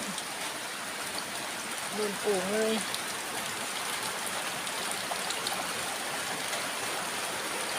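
Heavy rain falls steadily in Korat, Thailand, a dense, continuous hiss filling the whole clip, with someone briefly speaking over it.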